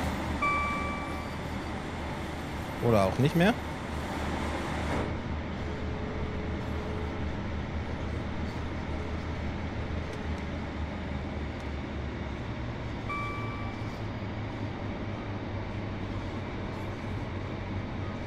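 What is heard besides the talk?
diesel regional train running, from video game Train Sim World 3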